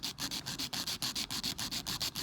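Acrylic nail tips being filed for a deep French manicure: steady rhythmic back-and-forth rasping strokes, about five per second, close and even, with no talking.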